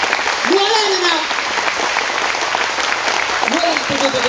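Audience applause at a lecture on finance fills the room as dense, steady clapping from a crowd, with a speaker's voice carrying over it.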